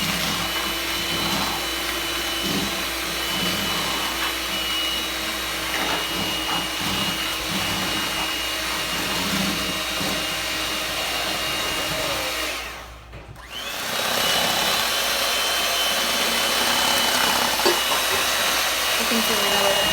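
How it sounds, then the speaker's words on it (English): Dalgona whipped coffee being beaten by hand with a whisk, a steady, dense scratchy whir running continuously, close and fairly loud, with a brief pause near the end before the whisking resumes. "you're going to need a whisk, and you're going to whisk it for 2 minutes"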